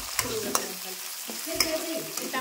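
Chopped tomatoes fry in hot oil for set dosa aloo sagu, a close sizzle broken by stirring scrapes and a few sharp clinks of the spatula against the pan, with no talking.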